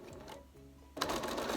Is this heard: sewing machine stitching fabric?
yes